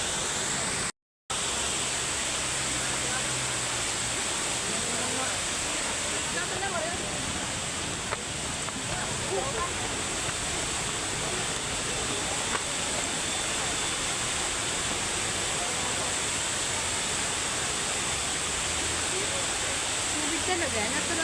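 A river in Antipolo rushes in a steady, dense, close roar of flowing water that runs without pause for the whole stretch.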